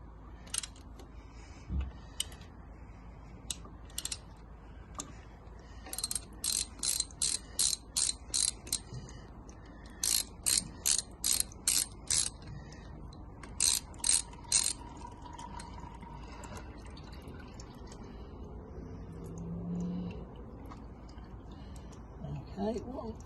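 A hand ratchet clicks in several rapid bursts while loosening the 8mm oil filter bolt on a 2021 Sinnis Terrain 125cc motorcycle, with close, sharp metallic pawl clicks and brief pauses between strokes.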